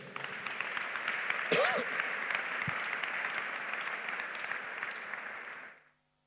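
A church congregation applauding the Lord Jesus during a sermon, a continuous wash of many hands clapping from a distance, with a brief voice or shout partway through, fading out at the end.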